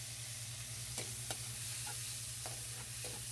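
Tomato with onion frying in oil in a pan for a pechay and fish head dish, a faint low sizzle broken by several light spoon taps and scrapes as it is stirred, near and without voices.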